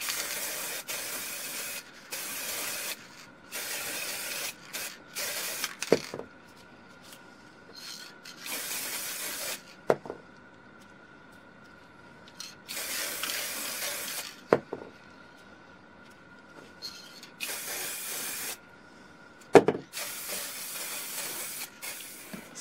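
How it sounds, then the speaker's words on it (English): Repeated bursts of aerosol spray paint hissing inside an old box, each lasting a second or two, separated by quiet pauses and occasional clicks of the can. "and then I can spray paint inside of it."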